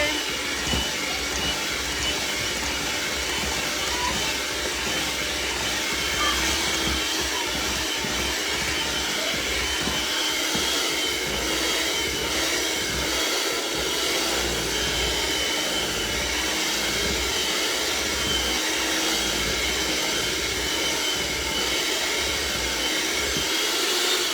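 An electric hand mixer beats thick banana oatmeal cookie batter in a bowl, a loud steady whirring drone that holds without a break from start to finish, with no talking over it.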